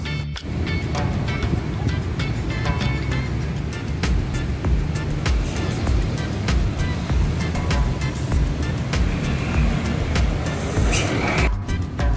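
Inside a free Metro tourist city bus riding through Makassar, South Sulawesi, a constant low engine and road rumble fills the cabin, with rattles and occasional knocks over the steady drone.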